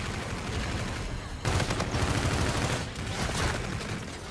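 Rapid automatic gunfire from the video game Infinite Warfare rattles in dense bursts, loud and close, with a brief lull between volleys and no talk over it.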